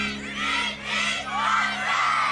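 A crowd at an outdoor stunt test cheers and shouts in two swelling bursts, loud and close, with a low steady hum running underneath.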